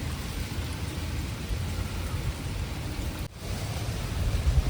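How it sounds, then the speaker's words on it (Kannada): Light rain falls outdoors in a village garden as a steady soft hiss with a low rumble beneath it. There is a brief dropout partway through, and no one is talking. "ಮತ್ತೆ ಸಣ್ಣ ಸಣ್ಣದಾಗಿ ಮಳೆ ಸ್ಟಾರ್ಟ್ ಆಗಿದೆ"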